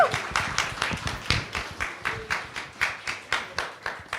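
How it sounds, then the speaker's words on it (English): Audience applause at a talk on Black activism in the UK: a steady run of rhythmic clapping from a moderate-sized crowd, fairly close and even in loudness, with no talking over it. "So please put a big round of applause together for Chantel."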